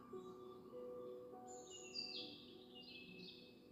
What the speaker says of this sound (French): le chant des oiseaux commence timidement comme un réveil en douceur